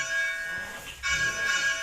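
Simulated church bell ringing, played through a PC speaker while a bell is swung in a tower at Kirkburton; sustained ringing tones swell, dip briefly, then strike again, steady and moderately loud with no talk.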